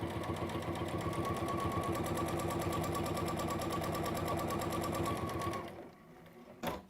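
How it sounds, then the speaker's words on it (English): A sewing machine runs steadily, stitching a straight quarter-inch seam with a fast, even mechanical chatter. It stops near the end, then gives one short final burst. "We're going to sew along that straight line, so just as we did just before, with a 1/4 of an inch seam."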